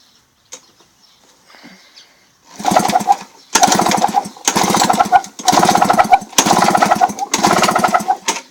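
A small single-cylinder engine with its spark plug out is cranked after a few faint clicks, giving a series of rough, loud bursts with short gaps between them.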